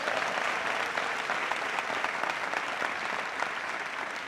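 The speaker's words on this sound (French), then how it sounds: "On applaudit très fort pour lui" An audience at a live comedy show claps loudly and steadily in a dense, continuous burst of applause that fills the whole clip without a break.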